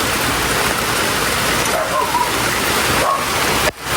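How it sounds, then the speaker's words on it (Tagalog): Heavy rain pours down on a banana plantation at harvest, a loud, dense, continuous hiss close by that drowns out everything else, with brief faint voices and a short dip near the end. "Grabe, lakas ng ulan."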